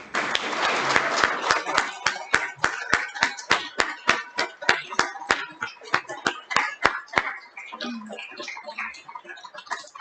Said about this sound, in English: I think this group of coming of age students deserves another full round of applause from all of